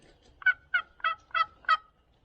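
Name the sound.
turkey call imitating soft gobbling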